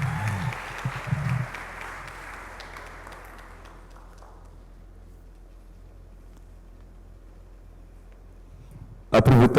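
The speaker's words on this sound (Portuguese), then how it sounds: "vou chamar o professor Dr. Brazão Mazula, peço uma forte salva de palmas, vai dizer algumas palavras." An audience claps at a conference book presentation; the applause starts strong and steady, then thins and fades over about four seconds, leaving a quiet hall before a sudden loud burst at the very end.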